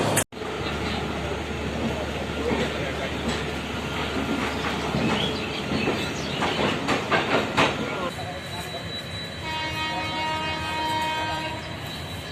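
A train rumbles along steadily with rhythmic clatter from the wheels, voices talking over it at times, and a sustained tone near the end.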